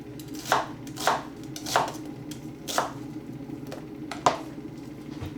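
Knife chopping vegetables on a board for a simple vegetable curry, six spaced, fairly soft chops at an uneven pace over a low steady background hum, with no talking.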